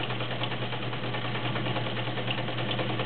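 A vintage Kenmore Heavy Duty 1207 sewing machine running continuously, a steady close mechanical whir with a fast rhythmic chatter and low hum, no talk over it.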